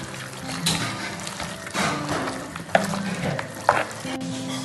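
Chicken coated in masala and curd is stirred by hand or spoon, giving wet, squelching scrapes with a couple of sharper clicks, close by and without speech.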